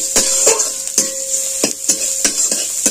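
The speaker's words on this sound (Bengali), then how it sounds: "এটা একটু আমি ভালো করে নেড়ে ছেড়ে ভেজে নেব, খুব বেশি ভাজবো না" Shredded carrots being stirred and lightly fried in a pan, with a steady sizzle broken by repeated scraping strokes of a spoon or spatula roughly every half second, close and fairly loud.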